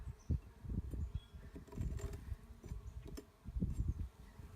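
Honeybees buzzing around an opened hive during spring cleaning, with dead bees being cleared and frames of capped honey exposed; a soft, steady low drone of many bees close by, with brief louder swells and rustling handling noises.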